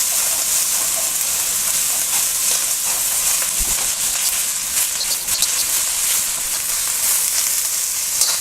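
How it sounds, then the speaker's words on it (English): Celery and carrots stir-fried in a hot pan for a vegetarian Chinese stir fry, a loud continuous sizzle with occasional spatula scrapes and stirring clatter, close up and without talk. "and keep stirring."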